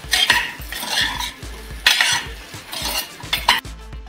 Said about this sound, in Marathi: हे पुन्हा एकदा व्यवस्थित आपल्याला असं मिक्स करून घ्यायचं आहे.